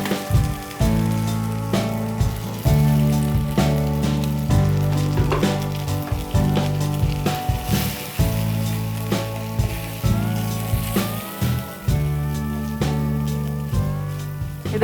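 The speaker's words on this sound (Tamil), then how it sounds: "தீயை ஸ்லோவாக வச்சுட்டு இதை ஊற்றிக்கிட்டே நல்லா கிளறி விடுங்க." Barnyard millet flour batter cooks in ghee over low heat while it is stirred continuously, producing a steady close sizzle with soft, regular stirring sounds throughout and no voices.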